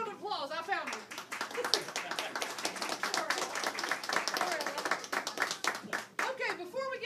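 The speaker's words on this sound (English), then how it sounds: "Big round of applause." Audience clapping at a mountain music showcase in a general store, a fairly small crowd producing brisk, steady hand claps mixed with voices and chatter from people nearby.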